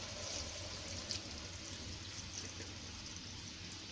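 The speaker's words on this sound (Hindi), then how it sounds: "और अब हम इसमें पानी शामिल करते हैं।" Water is poured steadily into a pot of mutton with ginger and chillies, making a close, even, continuous rushing splash that lasts several seconds with no voices.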